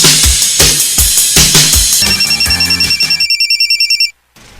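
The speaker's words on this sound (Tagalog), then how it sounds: "Kasaba bayaan ng imong cellphone Buning." A cellphone blares a loud, rhythmic ringtone with repeated electronic pulses and beeps, close and insistent, cutting off abruptly near the end.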